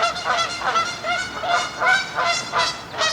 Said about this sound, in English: Some peaceful ducks in the water, some turtles on a rock.